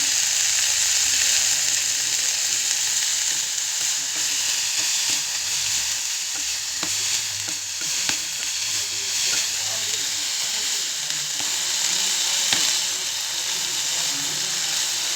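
Broccoli fries in a pan with salt, a loud, continuous hissing sizzle that holds steady throughout, with occasional faint stirring knocks beneath it.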